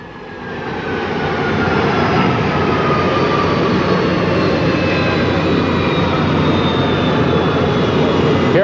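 A presidential Boeing 707 jet at San Diego in 1963, a loud, steady roar and whine of jet engines filling the air close by, holding constant throughout with no talk.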